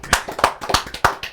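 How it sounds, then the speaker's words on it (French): A few people clap together on a French talk show as it ends, sharp close claps in an uneven rhythm for a moment, with no talk over them. "On s'applaudit tous."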